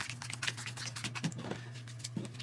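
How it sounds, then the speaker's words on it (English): A Forbidden Sky board game storm deck of cards being shuffled, giving a steady run of crisp, close riffling patter with no talk. "So we shuffle the storm deck"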